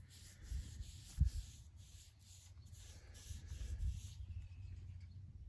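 Faint, irregular scraping and rubbing as a stick stirs a can of thin, heavy-duty aluminum paint, with a couple of slightly louder knocks against the can.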